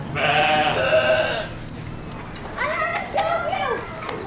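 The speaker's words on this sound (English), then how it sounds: "Oh, look at the little baby goats." Baby goats bleat near a camp at a Texas farm, two loud wavering bleats a second or so apart with a quiet gap between them, close to the listener.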